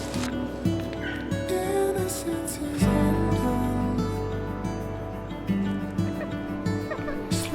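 Farmyard poultry, guinea fowl and chickens including bantam roosters, call out in repeated harsh, rhythmic cries close by, with squawks overlapping continuously through the scene.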